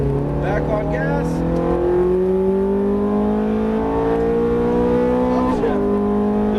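A Ferrari F430 on a racetrack pulls hard and close, its engine note climbing smoothly and loudly under full throttle, with a brief shift near the end and a voice talking beneath the roar.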